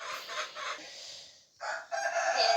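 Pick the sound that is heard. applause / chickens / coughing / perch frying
chickens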